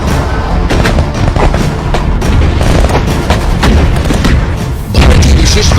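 Commandos set off an explosive charge to breach a room, producing a very loud, booming blast with rumbling, crackling bursts and gunfire-like impacts that continue close and intense throughout, a voice faintly present underneath.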